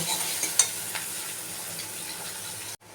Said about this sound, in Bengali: পেঁয়াজ লাল লাল করে ভাজা হয়ে গেছে।